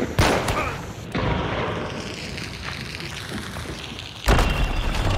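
A grenade explosion in Hunt: Showdown, a sharp loud blast at the start followed by a rumbling tail, another sudden boom near the end, under muffled ambient noise with a voice in places.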